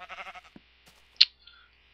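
A sheep in the block-building game Minecraft gives one short, quiet bleat, followed by a few faint clicks and game noises.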